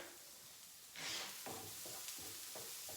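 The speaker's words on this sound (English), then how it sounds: "So I'm going to stir this around" White sauce for macaroni and cheese being stirred in a pan: a faint, soft sizzle with a brief hiss, then repeated scraping spoon strokes in a loose rhythm, quiet and close.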